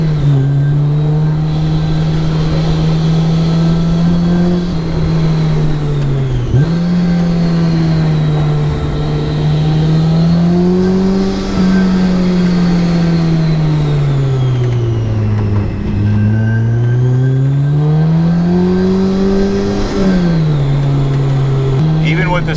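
Supercharged Honda S2000 CR with a Kraftwerks kit revving hard while being driven sideways, a loud steady engine drone rising and falling with throttle and gear changes, with a brief dip near the middle and a strong supercharger whine above.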